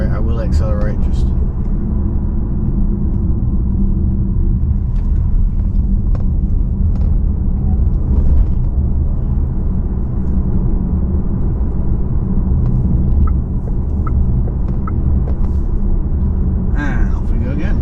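An electric car drives a backroad, its steady low road and tyre rumble holding throughout while a person talks over it almost continuously.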